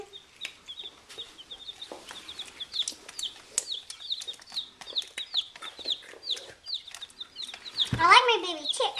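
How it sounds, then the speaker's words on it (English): Baby chicks cheep and cluck in a rapid, continuous chorus close by, with soft pecking taps and a voice talking over them, rising to a louder burst near the end. "I like my baby chicks"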